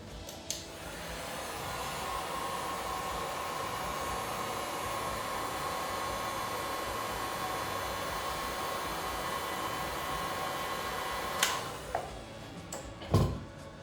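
Heat gun blowing hot air onto a PlayStation 3 circuit board, a steady close rushing hiss that runs unbroken, ending with a few sharp clicks and knocks.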